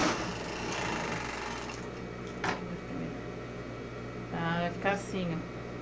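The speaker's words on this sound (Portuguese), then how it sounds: "Então, faço a overlock." An overlock sewing machine stitches the shoulder seams of a unicorn costume dress, whirring faintly and steadily beneath someone speaking Portuguese, with a few short bursts of louder motor sound toward the end.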